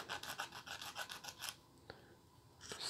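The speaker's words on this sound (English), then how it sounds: "Sand these ends down a little bit." Rhythmic rasping strokes of sanding on the ends of a guitar part, quick back-and-forth scrapes that stop partway, followed by a couple of faint taps in a quiet room.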